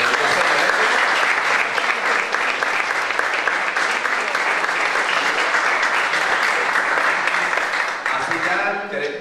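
Dense, sustained applause from a conference audience welcoming a speaker at a retro-console event in Alicante, loud and steady throughout before easing slightly at the end, with faint voices mixed in.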